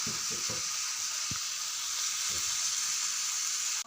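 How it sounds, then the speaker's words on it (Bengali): Turmeric and chili powder being stirred into a hot frying pan, giving a steady, moderately quiet sizzling hiss. A few soft knocks from stirring come near the start, and the sizzle cuts off abruptly at the end. "এবার এটাকে হালকা নাড়াচাড়া করে বাকি হলুদ গুঁড়ো, লঙ্কা গুঁড়ো এগুলো আমি দিয়ে দেবো।"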